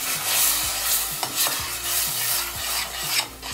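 Tomato, about 300 grams, being stirred into zucchini pulp in a pan, with steady scraping and stirring strokes over a soft sizzle of frying, close and fairly loud, without talk.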